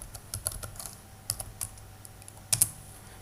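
Keys clatter on a computer keyboard while a Java palindrome program is being written and run, scattered taps and a few sharper strokes close by, with no talking.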